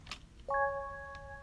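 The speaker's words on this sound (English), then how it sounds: "we have a warm bell pad." A warm bell pad layer rings out as a soft struck chime, then several clean, steady tones sustain and slowly fade, alone and fairly quiet.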